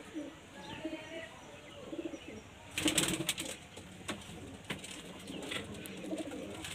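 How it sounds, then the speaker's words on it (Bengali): Pigeons are let out to fly. Soft cooing and chirps are heard, then a sudden louder flurry of flapping wings midway, followed by scattered wingbeats and calls at a moderate, fairly faint level. "এই উড়ছে পায়রা"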